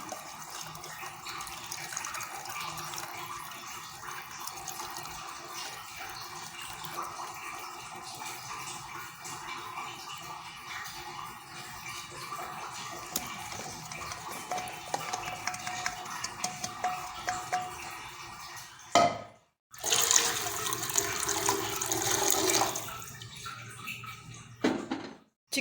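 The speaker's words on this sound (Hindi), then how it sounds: "अब हम यखनी को छान लेते हैं।" Chicken yakhni broth strained through a sieve as a steady, continuous liquid pouring and splashing, close and moderately loud, with a brief break near the end before the flow resumes. No one speaks.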